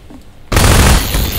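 Gunshot in Half-Life 2, a single sudden loud blast after a quiet moment, ringing out broad and heavy for the rest of the second.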